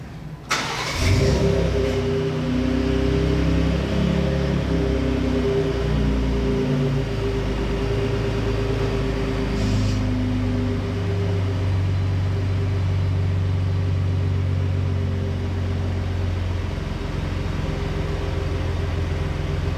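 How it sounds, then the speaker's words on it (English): A 2017 Ford Raptor truck engine cranks and fires, flares briefly, then settles into a steady, loud, rumbling idle close by, with a slight change in pitch partway through and no talking. "let's go ahead and start the Raptor first"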